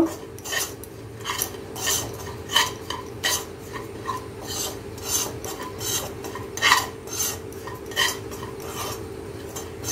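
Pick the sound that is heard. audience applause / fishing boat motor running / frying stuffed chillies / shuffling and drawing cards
frying stuffed chillies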